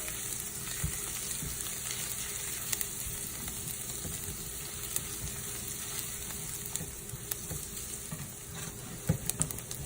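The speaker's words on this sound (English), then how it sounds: "You don't want your onions to burn. You just want it to soften up." Onions softening in a pan for risotto make a steady, gentle sizzle with soft intermittent stirring clicks, moderately quiet and close, running continuously without talk.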